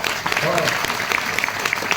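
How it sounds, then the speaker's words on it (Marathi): A kirtan audience claps in a short, scattered burst of applause. A voice carries over the clapping. "आणि म्हणून त्यांच्याकरता सर्वांनी टाळ्या वाजवा"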